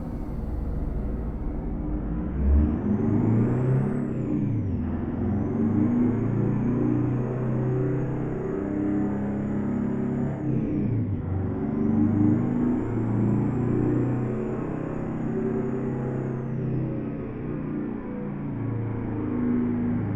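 A simulated International 9800 CabOver truck engine in American Truck Simulator drones steadily and loudly with low rumble throughout, rising in revs early on, with a few faint high whines sweeping across.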